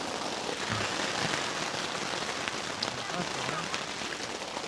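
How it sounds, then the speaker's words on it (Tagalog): Heavy rain pours steadily at a campsite, a dense, even patter drumming on surfaces close by throughout, with faint voices murmuring underneath. "Grabe, ang lakas ng ulan."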